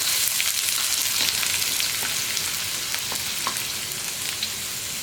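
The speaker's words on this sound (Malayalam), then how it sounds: "വെജിറ്റബിൾ ഓയിൽ ചൂടായി വരുമ്പോൾ നമുക്കിതിലേക്ക് നമ്മൾ കട്ട് ചെയ്ത് വെച്ചിരിക്കുന്ന സവോള ചേർത്ത് കൊടുക്കാം" Chopped onion frying in hot vegetable oil in a kadai, giving a steady, dense hiss close by with a few faint crackles and light stirring clicks.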